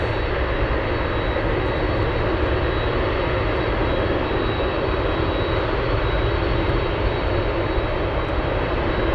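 A Boeing 747 Dreamlifter's jet engines roar at Anchorage airport, a loud, steady broadband rumble and whine holding unbroken throughout with no gaps or voices.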